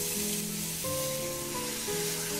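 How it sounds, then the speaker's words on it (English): Beef for birria tacos sizzles loudly and steadily in a hot pan, a constant crackling hiss with soft music tones beneath it. "All of those sizzles are a great sign"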